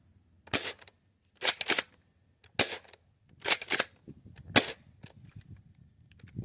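A Dart Zone Max Nitroshot+ Stryker 2.0 dart blaster fires five or six sharp, loud cracking shots in irregular succession outdoors, with brief quiet gaps between them.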